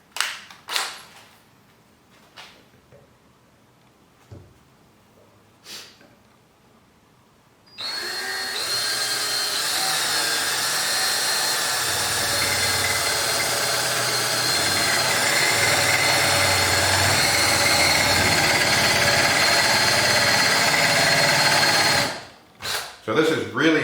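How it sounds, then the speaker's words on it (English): A power drill hogs out a joint in hard oak on a rocking chair, running loud and steady for about fourteen seconds after a few scattered knocks, then stopping abruptly. "But I can kind of hog it out with the drill"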